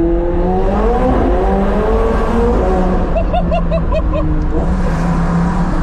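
A McLaren 720S revs hard through a small tunnel, its engine and exhaust roaring loudly with rising pitch sweeps and a burst of rapid pulses as it echoes off the walls.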